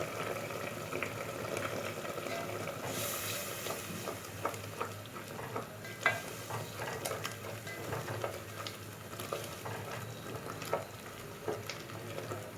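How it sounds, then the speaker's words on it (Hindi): A spice mixture of garlic, turmeric and ground red chili fries in oil while a spoon stirs it, cooking for an egg and potato curry. A steady, close sizzle with scattered scraping clicks from the spoon, and no talking. "मुझे इस आमेज़े को उस वक्त तक भूनते रहना है और चम्मच चलाते रहना है जब तक कि ये ऑयल ना छोड़ दें।"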